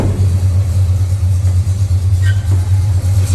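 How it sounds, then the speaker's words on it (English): A 1966 Chevrolet pickup engine idles with a steady, loud, low rumble and a smooth, even pulse throughout, close by and with no talking over it. "fires up on the first half revolution of the motor"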